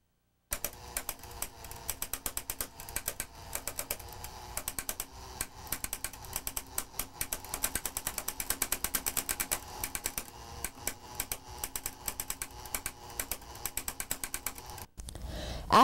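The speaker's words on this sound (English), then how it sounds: "As the wheel rotates, mechanical actuators set the selected pins to form the Braille text." Mechanical pin actuators on a rotating-wheel Braille reader tick in a rapid, even stream of close, crisp clicks that continue for about fifteen seconds over a faint whir.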